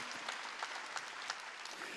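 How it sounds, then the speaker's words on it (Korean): Church congregation clapping during a Korean Wednesday worship service, a steady wash of many hands applauding together with no break, fairly close and dense throughout. "박수 치며 하나님께 영광 드리고"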